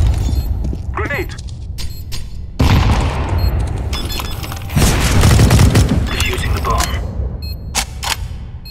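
A video game grenade explodes with a heavy boom amid scattered gunfire, loud and close, followed by sharp shots and clatter over a noisy game backdrop.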